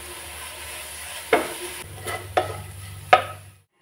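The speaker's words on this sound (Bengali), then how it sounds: "এটা ভালো করে নেড়ে চেড়ে আঠালো একটা পুর তৈরি করে নেবো" Grated coconut and jaggery stirred in a pan into a sticky filling, with a few distinct scraping strokes over a faint background hiss, no voices.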